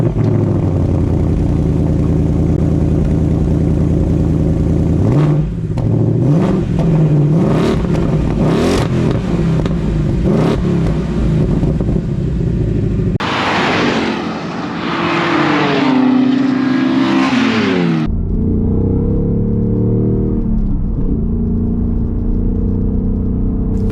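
A 2021 Ford Mustang Mach 1 V8 lapping Queensland Raceway on a track day, loud engine roar rising and falling through gear changes and revs for the whole stretch, with a harsher burst midway and steadier droning toward the end.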